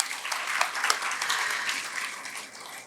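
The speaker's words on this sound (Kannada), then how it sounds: "ಅನಂತ್ ಮತ್ತು ಅವ್ವ ಪಬ್ಲಿಕೇಶನ್ಗೆ ಒಂದು ದೊಡ್ಡ ಚಪ್ಪಾಳೆ ಬರಬೇಕು ಅಂದ್ಕೊತೀನಿ" A seated audience at a Kannada literary event bursts into sustained applause for Anant and Avva Publication, dense clapping peaking early and then gradually thinning out.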